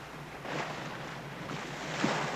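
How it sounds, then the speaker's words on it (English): Research ship Calypso at sea among whales, its engines giving a quiet low throb under a steady wash of water and wind, with a faint surge near the end and no voices. "the quiet throb of Calypso's engines does not disturb the whales"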